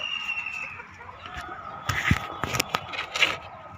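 A chicken clucks in short, scattered bursts against a steady low background hum, moderately close but not loud, with no voices.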